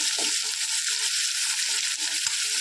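Chopped onion frying in oil in a pan as a tempering base for Maharashtrian dal, a steady close, dense sizzle running unbroken with faint stirring scrapes and no talk.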